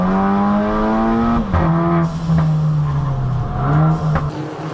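Race cars from a Turkish circuit series scream past at full throttle, a loud, steady engine note rising and dropping as cars shift and one overtakes another, several engines overlapping close by.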